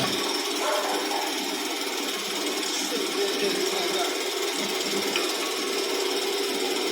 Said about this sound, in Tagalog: So, habang umiikot yung bowl niya, nag-iikot rin yung blade niya para mag-chop yan.